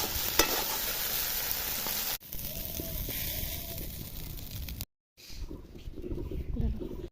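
Hot oil sizzles and crackles steadily as bay leaves, dried red chillies and cumin fry, with a few sharp pops and stirring clatter, broken by a brief silent gap.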